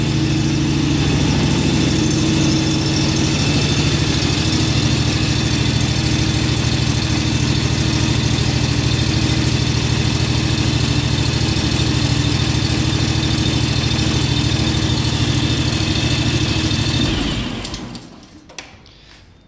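A small pump engine fitted with new spark plugs runs loud and steady at close range, a continuous even drone that cuts off abruptly near the end, leaving near silence.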